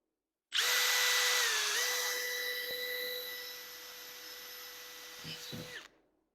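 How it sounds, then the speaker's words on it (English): A power drill runs continuously through an acrylic tab for about five seconds, a close, steady high whine that dips in pitch as it bites and fades slightly before stopping abruptly, with a few handling knocks near the end. "Just drill through the rest of that tab."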